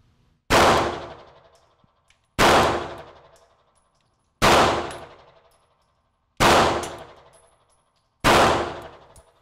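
Five single handgun shots ring out at an indoor shooting range, each a loud, sharp crack with a reverberant tail, evenly spaced about two seconds apart, with no talking.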